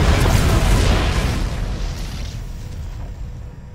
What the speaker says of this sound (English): The explosions have stopped.